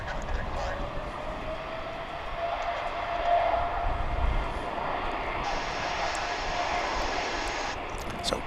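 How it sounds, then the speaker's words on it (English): An American Airlines Boeing 787-8 Dreamliner jet at DFW airport, its engine roar steady and moderately distant, a broad continuous rumble with a slight swell midway, heard outdoors without speech. "This is American Flight 61. It's also a Dreamliner, a 787-8."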